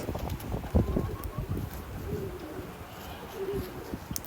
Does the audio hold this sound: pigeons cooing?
yes